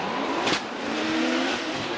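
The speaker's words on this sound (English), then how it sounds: "Yamashita's car just pulling on Matsuyama's vehicle." At a Formula Drift Japan 2024 event, a drift car's engine revs hard while its tires squeal in a sustained screech. The car passes close and loud, with a sharp burst near the start.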